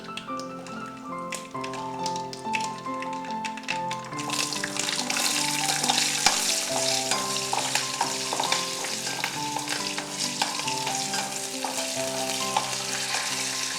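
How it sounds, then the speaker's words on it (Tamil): Small onions hit hot oil with popped mustard seeds and golden urad dal for a papaya kootu, giving a loud, steady sizzle with stirring scrapes that swells after a few seconds and carries on continuously, with background music and no talk. "கடுகெல்லாம் நல்லா பொரிஞ்சு வந்த அப்புறமா அதே மாதிரி உளுந்தும் கொஞ்சம் கோல்டன் கலராக ஆன அப்புறம் இந்த சின்ன வெங்காயத்தை ஆட் பண்ணிடலாம்"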